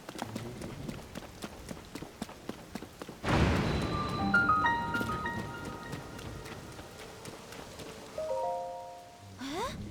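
Rainfall in the video game Tears of the Kingdom: a light steady patter, then a heavy rumble of thunder swells in and lingers beneath the rain while bright in-game chimes ring out briefly.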